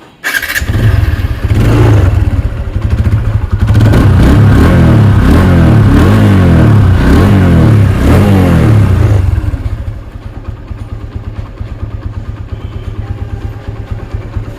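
A second-hand Apache RTR 160cc motorcycle engine starts and revs loudly for several seconds in rapid throttle bursts, then settles into a lower, steady idle.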